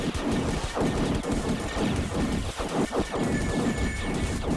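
Continuous heavy shooting in the game Time Rifters, a dense, loud barrage of rapid shots and crashing impacts that keeps going throughout.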